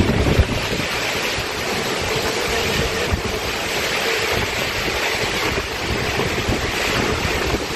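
Rain driven by strong wind along the Suramadu access road in Burneh, Bangkalan, Madura, a continuous rough rush of gusts buffeting the microphone, with low rumbling and no voices.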